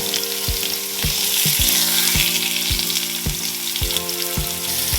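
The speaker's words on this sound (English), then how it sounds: "My pork is still cooking over here on the stove" Pork sizzling and frying in a pan on the stove, a bright continuous crackle, with regular low thumps, clear and close throughout.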